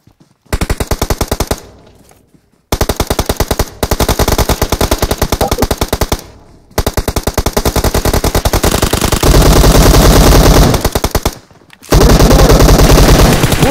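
Loud automatic gunfire in PUBG Mobile on the Erangel map, long rapid bursts separated by brief silent gaps, close and dominant with no speech.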